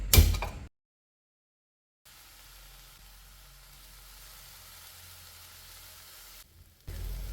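Dried shrimp frying over low heat in a pan, a soft steady sizzle running for several seconds after a brief loud clatter and a stretch of silence.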